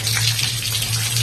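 Steady rain pours at the Khukudeswar Mahadev temple in Sonepur during the Shravan month, making a continuous wash of falling water over a constant low hum.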